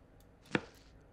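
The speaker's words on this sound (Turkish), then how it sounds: "Önce doğrayalım sonra atalım içine." A single crisp chop cuts broccoli in the Toca Kitchen 2 mobile cooking game, one short knife-on-board sound effect over near silence.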